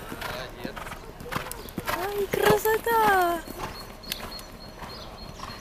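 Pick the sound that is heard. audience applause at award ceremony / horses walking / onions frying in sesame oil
horses walking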